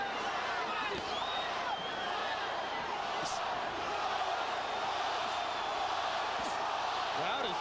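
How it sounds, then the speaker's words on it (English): A large boxing arena crowd chants a fighter's name during the Glen Johnson versus Roy Jones Jr. bout, forming a dense, continuous roar that runs unbroken from start to finish. "Crowd is chanting, Roy, Roy, Roy."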